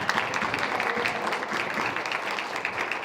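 A commencement crowd applauding the graduates, dense and continuous clapping from many people filling the hall at a moderate, even loudness.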